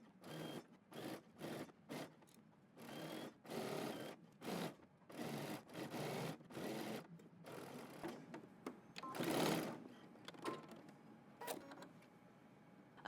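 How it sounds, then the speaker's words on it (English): A sewing machine stitches a jacket sleeve seam at a 5/8 inch allowance, running in a series of short bursts and longer steady runs with brief pauses between, fairly close and clear with no talking. "now we're going to go ahead and stitch around our sleeve using 5/8 of an inch seam allowance"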